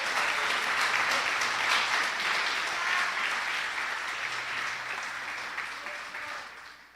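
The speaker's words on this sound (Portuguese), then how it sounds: "Aplauda o Senhor Jesus nessa noite" A church congregation claps together during an evening service, with sustained, moderately loud applause that gradually fades toward the end.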